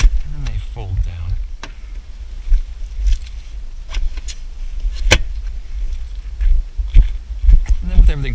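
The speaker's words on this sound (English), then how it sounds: "The other ones you have to pull up on these little cords right here, and then they fold down." Rear seats in a 2019 Audi Q3 Quattro fold down, giving several sharp mechanical clunks and thumps scattered over a low interior rumble, close and fairly loud.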